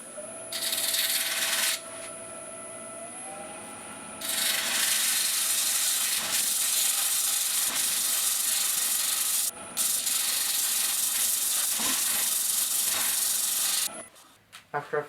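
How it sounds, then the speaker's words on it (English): Loud, continuous abrasive power sanding of a zebrano wooden bowl up to 180 grit, with a steady hissing rasp, briefly pausing and resuming, with a high whine from the sander. "After I finished the sanding process and sanded it all the way up to 180 grit"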